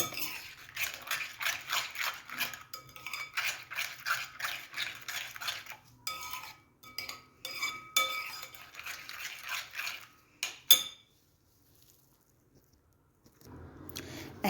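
Bread batter ingredients are stirred in a bowl with a utensil, giving rhythmic scraping and clinking strokes close up, steady for several seconds, then a few scattered knocks before the stirring falls quiet.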